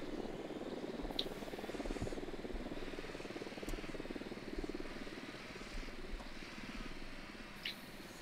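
A helicopter in the video game Ghost Recon Wildlands drones with a steady, muffled rotor and engine hum, fairly quiet and continuous, with a few faint clicks over it.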